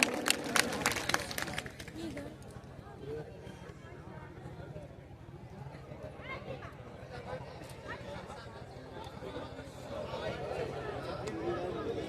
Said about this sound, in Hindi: जोरदार तालियां जरा पूज्य महाराज जी के श्री चरणों में